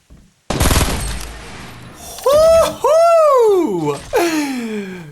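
Fortnite burst rifle fires in a dense opening volley that ends abruptly, followed by loud sweeping whistles and swooshes, with no voices.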